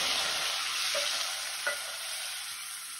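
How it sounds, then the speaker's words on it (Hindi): Cleaned prawns sizzle in hot oil in a pan for a prawn salan, a steady loud frying hiss with a couple of brief stirring scrapes and clinks partway through. "प्रॉन झींगा, जो जो कि हमने साफ करके रखा हुआ है वो डालेंगे। इनको भी अच्छे से फ्राई करें।"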